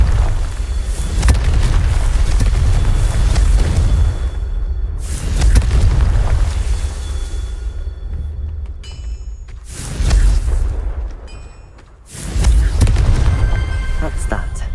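Loud booming blasts from the Confringo fire spell in Hogwarts Legacy, with three or four heavy explosive bursts separated by short quieter gaps, each one rumbling with deep low-end power.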